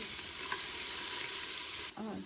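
Spices sauté in hot oil in a pan for mutton paya soup, giving a continuous close sizzle that stops suddenly near the end.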